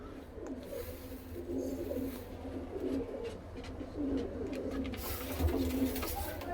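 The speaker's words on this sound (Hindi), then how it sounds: "बहुत नया आप कबूतर लाया हूं भाई आज।" Several pigeons coo softly and repeatedly nearby, their low throaty calls overlapping against a faint background murmur; the birds are Punjabi Malwai chatri pigeons.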